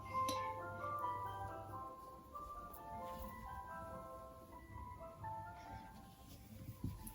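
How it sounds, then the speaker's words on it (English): An ice cream truck plays its tinkly electronic jingle outdoors, a steady repeating melody sounding moderately near over a low engine-like hum, with no speech. "and the ice cream truck is here."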